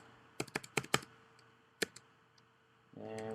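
Keys tapped on a computer keyboard while entering a phone number into an online form, a quick burst of crisp clicks followed by a couple of isolated taps, close and quiet.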